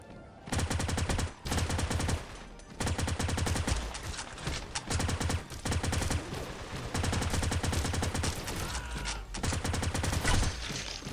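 Uzi submachine gun in the battle royale game Skillshot City, loud close rapid-fire bursts in long rattling strings broken by brief pauses, dense and continuous.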